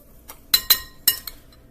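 A spoon stirs garlic and Italian seasoning blend in a dish, giving a few sharp, close metallic clinks against the bowl in an irregular rhythm over a quiet background.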